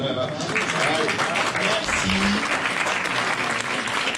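Sustained, loud applause from a crowd, dense and even throughout with no pauses.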